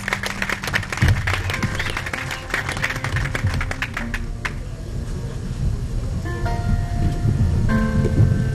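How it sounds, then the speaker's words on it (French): An audience applauds at an award ceremony for scholarship laureates, dense continuous clapping from a crowd in a hall, steady and close, with faint tones in the background. "Pouvons-nous applaudir pour Bambi Kachila pendant qu'elle s'avance?"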